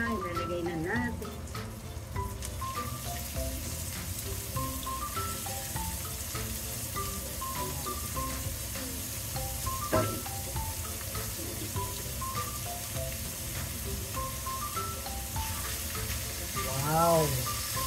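Chopped chayote sautéing in a frying pan: a steady, close sizzle runs throughout beneath a light melodic background tune.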